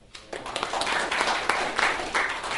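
Audience at a Limerick talk applauding to welcome Dr. Matt Bowden, a dense, steady patter of many hands clapping in a room, rising quickly and holding strong throughout.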